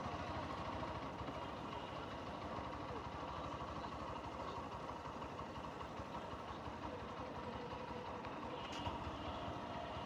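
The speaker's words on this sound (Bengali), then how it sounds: "Khulna railway station." Ambience at the old Khulna railway station, with a continuous low rumble of a train engine idling and a dense wash of background noise, steady and moderately loud throughout.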